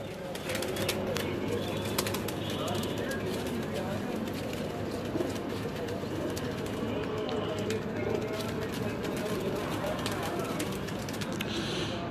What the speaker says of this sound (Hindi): जी मंजूर भाई चैंपियन कबूतर हैं जी